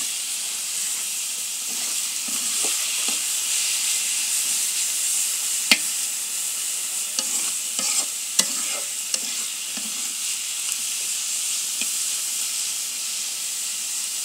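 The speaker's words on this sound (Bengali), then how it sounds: "আমার শাক ভাজি করা হয়ে গেছে" Spinach frying in a pan with three green chilies, a steady bright sizzle running throughout with occasional stirring scrapes and small clicks of a utensil against the pan.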